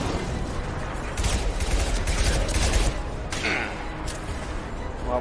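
Rapid gunfire from a Mass Effect 2 firefight crackles in a dense burst lasting a few seconds amid steady game noise, with sharp shots standing out near the end.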